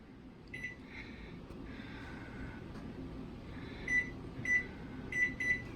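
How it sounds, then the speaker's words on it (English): Kitchen timer beeping several times in short, bright bursts near the end, over a soft steady background hum in a home kitchen while eggs Benedict are cooked. "Our timer has ended."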